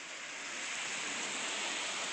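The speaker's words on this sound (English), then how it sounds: "It's raining really hard." Dense, steady hiss of heavy rain pouring down during a tornado alert, constant and close, with no other sounds over it.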